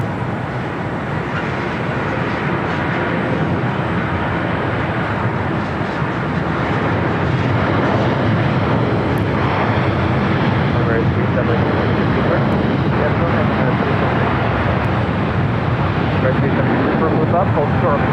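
A China Airlines Airbus A350-900 rolls along the runway at LAX, a loud, continuous jet rumble and roar that holds steady throughout, with talk heard intermittently over it.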